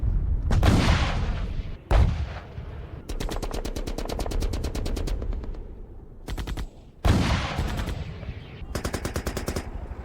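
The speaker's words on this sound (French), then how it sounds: "alors que Sarah jouait avec Abdurrahman, elle entendait au loin des cris, des coupes de feu et des explosions." Loud bursts of rapid automatic gunfire alternating with heavy booming blasts, coming in repeated volleys with short gaps between them.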